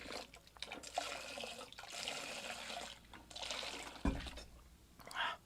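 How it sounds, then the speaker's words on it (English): Large gush of water regurgitated into a bucket, splashing and pouring in bursts over several seconds with brief pauses between surges, close and fairly loud. "It is quite preposterous to watch the amount of water that's coming out of you"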